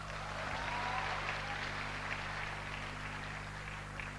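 Audience applause at a talk or storytelling event, steady and fairly faint throughout, heard alone over a constant low electrical hum.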